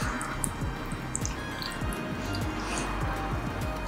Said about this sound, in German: Dann alles zusammen in eine Auflaufform füllen